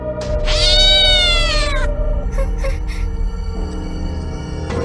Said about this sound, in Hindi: अरे, ये तो वही बिल्ली है जो रास्ते में दिखी थी।